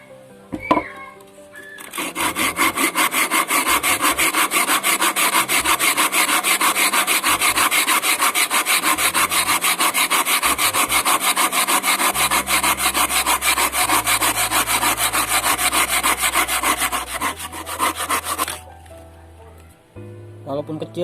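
A hand saw cuts through wood with a long run of quick, even rasping strokes, steady and close for most of the stretch before stopping; a voice is heard briefly near the start and end.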